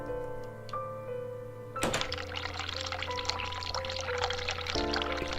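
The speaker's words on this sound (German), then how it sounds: "Machen wir mal ein bisschen kaltes Wasser an." Cold water gushing steadily from a hospital sink tap in The Cat Lady, a broadband rush that starts abruptly after a short musical passage and continues loud under ambient game music.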